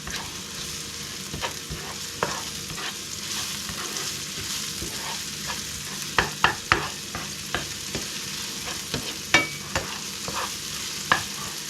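Food frying in hot oil while being stirred, with a steady crackling sizzle and scattered louder scraping clinks from a utensil against the pan, no voices.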